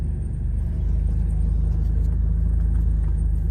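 Engine of a 1996 Ford Ranger pickup truck while reversing, a loud steady low rumble with a rhythmic idle throb, close by.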